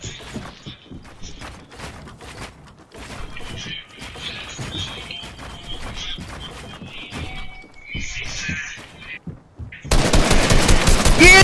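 Rapid bursts of automatic gunfire in a Fortnite match erupt loud and dense over the final stretch, after earlier scattered shots and in-game sounds mixed with a player talking.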